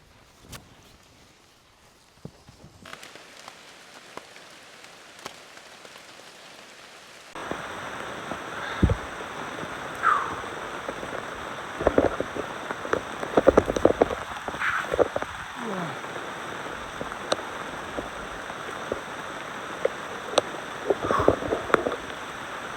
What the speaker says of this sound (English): It's raining like crazy now